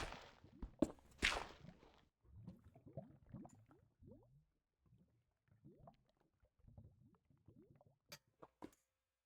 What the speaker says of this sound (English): that was a great swig of water